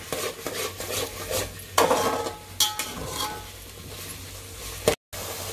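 Masala paste fries in oil for a mixed-vegetable bhogichi bhaji, a steady sizzle broken by repeated scraping and clinking of a spoon against the pan, then a sharp knock and a brief silence.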